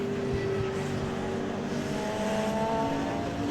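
A BMW touring race car at Cadwell Park in a 2021 classic touring car race, its engine roaring steadily and loud throughout, with the drone of other cars blended in.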